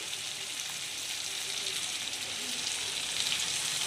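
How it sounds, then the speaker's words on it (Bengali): Coconut milk poured into fried spice paste for a Bengali mustard hilsa curry, giving a steady broad sizzle and bubbling that holds throughout and grows slightly louder at the end. "মশলাটা ভাজা হয়ে গেছে বেশি ভাজবো না কষে আছে এবার আমি এখানে নারকেলের দুধ দিয়ে দিচ্ছি"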